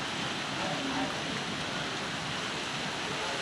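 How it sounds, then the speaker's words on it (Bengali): Heavy rain falls outdoors during a storm with strong wind, a steady dense wash of noise that fills the whole clip with no clear gaps or voices. "আর এই মুহূর্তে বৃষ্টিও শুরু হয়ে গেছে খুব জোরে"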